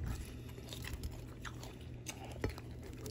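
Crunchy fried chicken fingers bitten and chewed up close, with soft crackling crunches and a sharper bite near the end, quiet and without talk.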